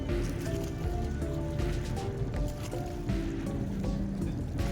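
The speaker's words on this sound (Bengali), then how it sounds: "এখন তো হাতে টানা নৌকায় ওপারে যাচ্ছি" A hand-rowed boat crosses the Ganges from a Varanasi ghat, giving a steady wash of water and open-air ambience with faint tonal hum throughout, close and continuous, with no voices.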